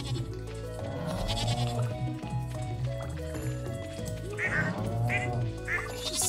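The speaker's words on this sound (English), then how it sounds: "Just so many ducks right there." Ducks quack in the farming video game Stardew Valley, a busy overlapping chorus of calls layered over steady game music throughout.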